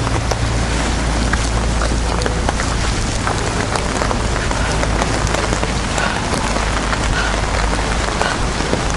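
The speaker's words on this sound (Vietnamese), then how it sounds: "Mưa bão." Heavy rain pours hard and steadily on surfaces during a storm near Datanla waterfall in Da Lat, a dense, loud, constant hiss with no voices.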